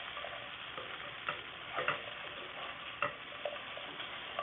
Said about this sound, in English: Let me give my sweet potatoes a stir